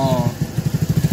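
A motorcycle engine on a road chugs in quick, even pulses close by for a brief moment, with a voice briefly heard at the start.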